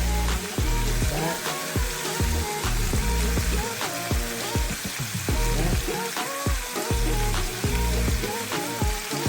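Korean galbi short ribs with green onions on top crackle loudly on a hot pan, a dense continuous sizzle broken by frequent sharp pops and tapping over a low steady hum.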